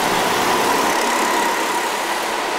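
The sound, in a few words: go-kart engines racing on an indoor karting track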